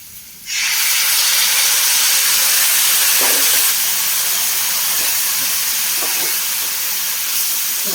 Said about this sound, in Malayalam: കുറച്ച് തിളച്ച വെള്ളം ഒഴിച്ചു കൊടുക്കാം